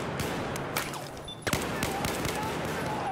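Airsoft gunfire during a milsim game, several sharp cracking shots popping in bursts against a busy outdoor background, fairly close, with a person talking over it.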